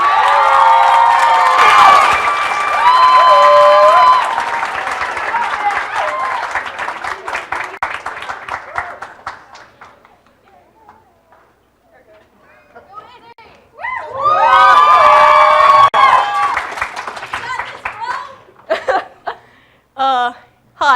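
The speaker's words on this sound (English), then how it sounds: "please be loud and give them a huge round of applause" A poetry slam audience claps and cheers loudly for a nervous competitor, with whoops and shouts that fade toward silence and then surge again in a second burst of cheering and applause.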